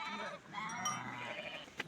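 A lamb bleats among a flock of sheep, one wavering, fairly faint cry lasting over a second with a short knock near the end.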